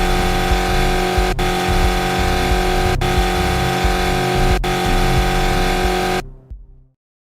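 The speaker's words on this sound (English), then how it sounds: "Stupid car and the sound effects" A loud car engine revs and roars steadily for about six seconds, with repeated brief cut-outs, then stops abruptly and fades to silence.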